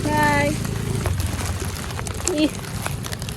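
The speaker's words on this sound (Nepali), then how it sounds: "यस्तो पानी पर्यो" Steady monsoon rain pours outdoors in Nepal during the Asar 15 festivities, a dense, even hiss running through the whole stretch beneath a voice and other talk.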